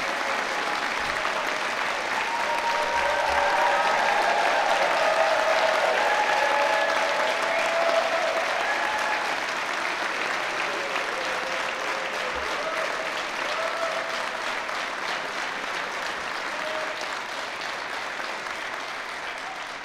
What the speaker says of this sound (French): Applaudissons chaleureusement les nouveaux diplômés